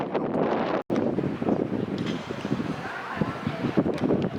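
Strong wind blows outdoors at an old hilltop site in Spain, a steady rushing roar across the mic with gusty swells and one brief dropout, a faint voice underneath.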